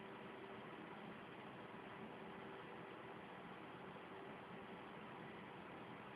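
A desktop PC fan on a faulty machine with an M2NE motherboard whirs with a steady broadband rush and a faint underlying hum, constant and close, with no talking.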